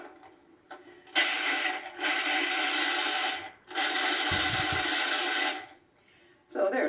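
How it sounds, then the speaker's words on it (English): Blanched whole almonds and spelt flour are ground into nut flour in a kitchen, a loud, dense whirring roar in three long bursts with brief pauses and a short restart at the end. "And you can just grind these up."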